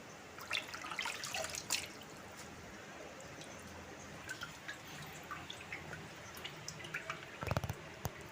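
Water drips and trickles off freshly washed kormi greens as they drain, faint intermittent splashes with a brief louder splash near the end.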